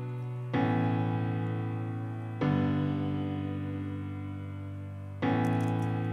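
Piano chords in a repeated pattern: three long sustained chords struck one after another, each ringing and slowly decaying before the next attack, played alone.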